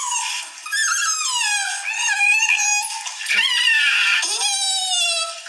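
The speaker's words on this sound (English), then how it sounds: "they were trying to give the Shiba a bath," A Shiba Inu dog being given a bath lets out a long run of shrill, wavering screams and squeals, loud and close, rising and falling in pitch with brief breaks between cries.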